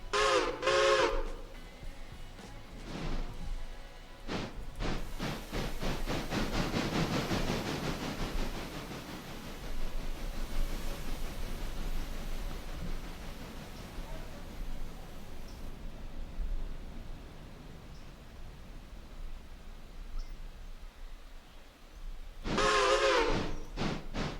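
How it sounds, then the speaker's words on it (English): A train in the Railroader video game runs faintly in the distance, a steady low rumble and hiss that lasts throughout, with a brief whistle-like burst near the start and end. "In the background there, you can just hear the train heading into Whittier."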